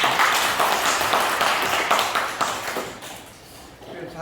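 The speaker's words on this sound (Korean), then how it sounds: "우리 서로를 위해서 박수 한번 쳐볼까요?" Students in a classroom clap together for a few seconds, a dense patter of hands that tapers off toward the end.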